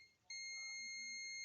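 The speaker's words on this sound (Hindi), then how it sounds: "ये बीप कर रहा है।" A UNI-T digital clamp meter sounds a continuity-test beep, a sudden steady high-pitched electronic tone that starts after a short pause and holds without break, faint and close.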